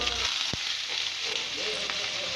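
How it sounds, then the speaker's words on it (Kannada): Paneer sizzles in hot ghee in a kadai with a dense, continuous hiss and one short knock near the start. No one speaks. "ತುಪ್ಪ ಸ್ವಲ್ಪ ಬಿಸಿ ಆದಮೇಲೆ ಪನ್ನೀರನ್ನ ಹಾಕ್ಕೊಂಡು ಫ್ರೈ ಮಾಡ್ಕೊಳ್ತಾ ಇದ್ದೀನಿ"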